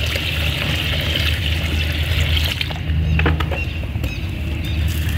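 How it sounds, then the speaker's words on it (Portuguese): Nineteen liters of water poured into a previously mixed batch while preparing water glass as frost protection for pitaya plants, a steady rushing, splashing flow that continues unbroken and fairly loud throughout. "Eu vou estar colocando isso, esse 19 litros de água, junto com aquela mistura que eu tinha antes."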